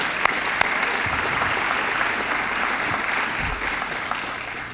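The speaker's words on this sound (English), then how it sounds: "Let's give them a round of applause as well" Steady applause from a graduation audience honoring parents, grandparents and siblings, dense even clapping sustained throughout at moderate level, tapering slightly at the end.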